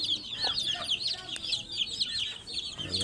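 A newly hatched chick peeps in a rapid series of high, thin chirps, close and clear over faint background noise.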